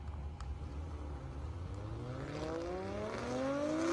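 A 1600 horsepower GTR and a Camaro launch side by side on an airstrip drag run, engines rising in pitch as they accelerate away, the sound building steadily and heard from a distance without talk.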